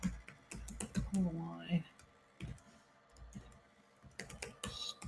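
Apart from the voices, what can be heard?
typing on a computer keyboard while writing Java code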